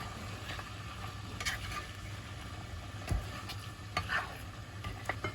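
Potatoes are stirred and fried in a pan while cooking Filipino asado, with a soft, steady sizzle and a few scraping stir clacks from the utensil, heard close with no talk.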